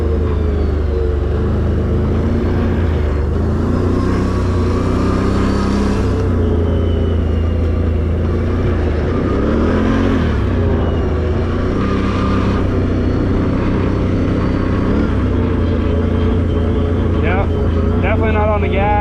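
A Can-Am Renegade 1000 ATV engine runs in sport mode on a very muddy trail, giving a steady loud rumbling drone with rising revs and surges throughout, while someone talks over it.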